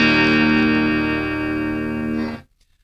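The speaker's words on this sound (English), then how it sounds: "Let's see about the distortion." A Donner DST-1S electric guitar with humbucker pickup, heavily distorted, rings out as a sustained, thick chord, then cuts off abruptly into silence.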